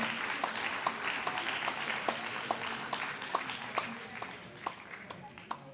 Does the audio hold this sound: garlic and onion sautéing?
no